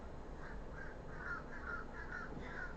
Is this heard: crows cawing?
yes